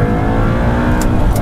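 Audi R8 engine revving loud and close through a sharp gearshift jolt, with a dense, rough exhaust note that holds steady for a moment. Two brief high clicks cut through near the end.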